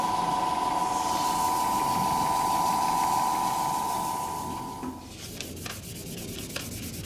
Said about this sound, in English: I'm gonna sand this with 400